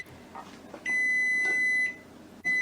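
Electronic kitchen timer on a stovetop while a pot of meat simmers, giving a short beep, then a steady held tone of about a second, then another beep starting, close and clear with no talk.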